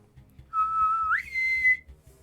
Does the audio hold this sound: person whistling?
yes